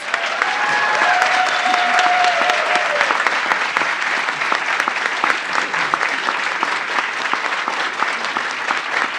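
Audience applause fills a graduation ceremony hall after a master's commencement address, steady and loud clapping from a large crowd sustained for about nine seconds, with a brief whistle-like tone early on.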